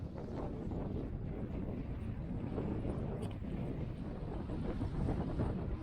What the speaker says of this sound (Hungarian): Nagyon erős a szél.